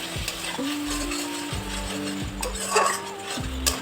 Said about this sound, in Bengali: এবার ভালো করে কষিয়ে নিতে হবে।